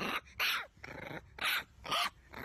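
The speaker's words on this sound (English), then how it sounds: "That's a fierce dog." Small dog in a cute pet clip growling and yapping in several short bursts, loud and close, with brief pauses between, no talk.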